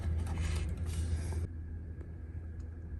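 Creaking mechanical grind of a drill press table being raised, a continuous close rumble for about a second and a half that then drops to a quieter steady hum.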